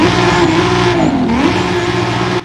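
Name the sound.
NASCAR race car engine roaring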